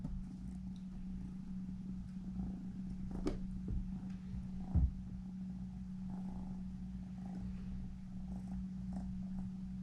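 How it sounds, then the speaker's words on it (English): A house cat purrs right up against the microphone, a soft, steady low rumble with a couple of brief bumps and no talking. "He purred right into the mic."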